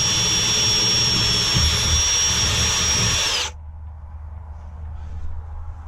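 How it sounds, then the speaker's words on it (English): A power drill whines at high speed for about three seconds, then stops abruptly, leaving quiet background noise. "now we have to drill here and here"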